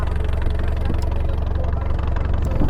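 Engine of a small cargo ship carrying goods between India and Bangladesh in the Sundarbans, a steady low idling drone that runs evenly and loudly throughout without a break.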